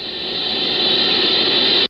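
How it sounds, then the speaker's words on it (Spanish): Steady broadband hiss of background radio interference picked up by the Horn Antenna radio telescope, constant and unchanging for nearly two seconds before cutting off abruptly, with no voices. "Pero la Horn Antenna que utilizan recibe constantes interferencias."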